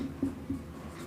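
A pen scratches across paper while an answer is written by hand during a maths exercise, with a few soft strokes close by and no talking.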